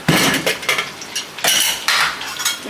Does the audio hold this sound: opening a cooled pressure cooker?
yes